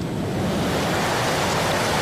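Ocean waves washing onto an island beach, a continuous broad rushing surf heard close and fairly loud with no voices.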